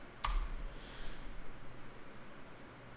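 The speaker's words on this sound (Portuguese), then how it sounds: "E eu vou vir aqui e dar um enter." A single sharp key press on a computer keyboard, likely the enter key, clicks once near the start, close and crisp, followed by quiet room hiss.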